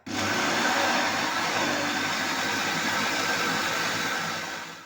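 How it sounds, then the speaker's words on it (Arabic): A handheld electric mixer beats eggs and sugar for a soft orange cake, a steady, loud, unbroken motor whir holding for several seconds with no talk. "هنايا في هاد ليطاب نضربو بيان ولاد الدجاج مع السكر"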